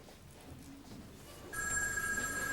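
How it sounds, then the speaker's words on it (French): A telephone bell starts ringing in a hotel, a sharp metallic trill that begins partway through and holds steadily to the end, heard alone without speech. "Il commence à m'énerver celui-là avec sa sonnerie."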